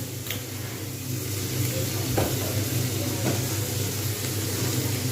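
Carrots and potatoes fry in a pan with a continuous dense sizzle, and a few sharp scraping knocks come as they are stirred.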